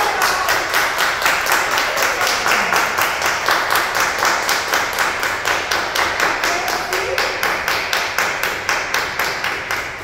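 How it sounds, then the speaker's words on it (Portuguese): Applause from a seated audience honouring tunnel workers at a railway museum talk, steady dense clapping sustained throughout at fairly close range, with no speech over it. "A gente vai aplaudir."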